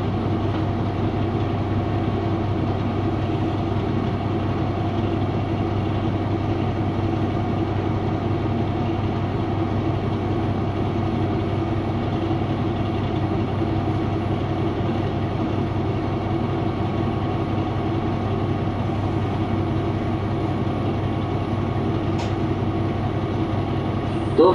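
A steady low diesel engine drone with a heavy rumble, unchanging and continuous, from a KiHa 183 series diesel limited express train departing a station in Hokkaido, Japan.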